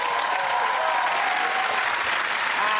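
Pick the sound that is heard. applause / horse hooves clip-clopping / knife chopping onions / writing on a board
applause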